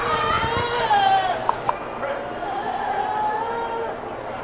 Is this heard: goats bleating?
yes